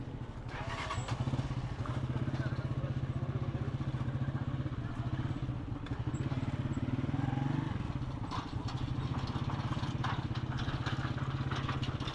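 A motorcycle engine idles steadily with a low, throbbing rumble, close by, with faint background noise, in the town of Nobandian.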